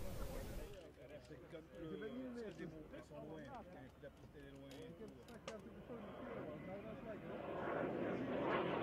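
A propeller airplane drones overhead at an air show in Batajnica, Serbia, its engine tone shifting as it passes low at slow speed, with someone talking over it throughout.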